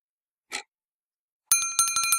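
A notification bell effect: one short swish, then a bright, ringing bell dinged rapidly several times in a row, loud and close, with no talking.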